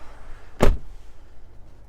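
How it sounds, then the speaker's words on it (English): A car door on a 2022 Cadillac Escalade shuts once with a single solid, close thud, followed by quiet. "I'll shut the door."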